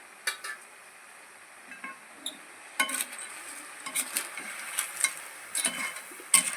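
A spoon scrapes and knocks around a covered pan of crab pepper gravy, giving sparse, irregular clinks and stirring scrapes over a faint sizzle, close and fairly quiet.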